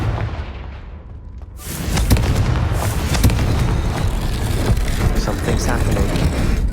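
A blasting spell cast in Hogwarts Legacy, the Confringo fiery explosion, bursts in after a quieter lead-in, followed by a dense run of booming impacts and crackling blasts that stay loud for the rest of the stretch.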